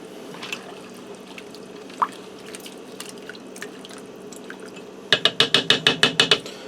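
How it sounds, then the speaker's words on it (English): A spoon stirs ham and potato soup in an Instant Pot with soft sloshing and scattered clinks, ending in a quick run of sharp, rhythmic taps against the pot. "Now I'm going to grab a spoon and stir this quick."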